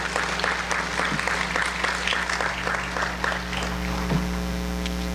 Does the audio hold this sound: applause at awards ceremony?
yes